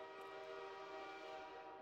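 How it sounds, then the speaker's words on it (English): A train horn in the game Half-Life 2 holds one long, steady, sustained blast with a rich chord of tones, moderately loud and continuous, with no talking. "The train just blew its horn."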